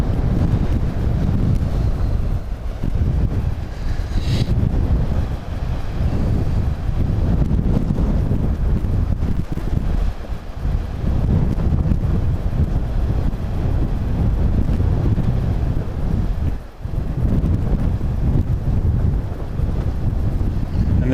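Strong wind buffets the microphone outdoors on high hills in Cyprus, a steady loud low roar that rarely lets up over the whole stretch.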